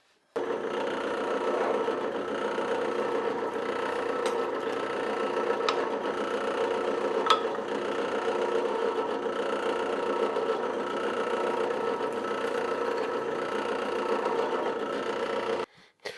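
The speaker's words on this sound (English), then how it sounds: "I've set up a stop on my drill press, and I'm going to drill all of them now" A drill press set up with a stop whirs in one long continuous drone, with a few faint clicks and scrapes as it bores repeated holes through wood.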